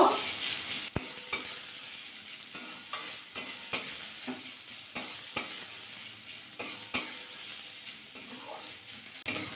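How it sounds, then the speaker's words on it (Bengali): Chopped onion fries in mustard oil with black cumin, giving a steady close sizzle broken by regular sharp scrapes and knocks of a stirring spoon in the pan. No one talks. "পেঁয়াজটা হালকা করে ভাজা করে নেব।"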